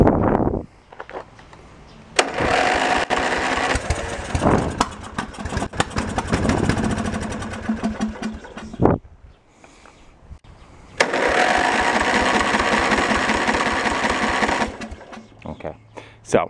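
An old junk tractor engine cranks and tries to run, two long loud bursts of rough churning engine noise separated by a quieter stretch, with brief talking in between.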